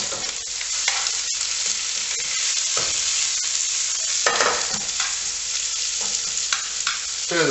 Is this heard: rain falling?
no